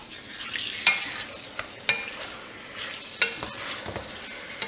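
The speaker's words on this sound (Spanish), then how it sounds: "Para que se vayan cocinando en la propia grasa que la carne va soltando." Pork pieces fry in their own rendered fat for Cuban-style masas de puerco, a close, crackling sizzle broken by several sharp stirring clacks as the meat is moved around the pan.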